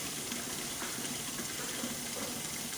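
Tap water runs steadily while vegetables such as spinach and water leaf are rinsed for a final washing, a soft, continuous splashing rush heard close and alone.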